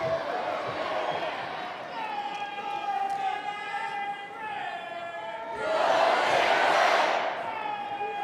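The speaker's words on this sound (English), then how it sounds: "Great Nebraska crowd." Large Nebraska crowd in Lincoln cheering at a Big Ten college wrestling match, a steady roar of voices that swells louder near the end, with a whistle-like tone and other sounds mixed in.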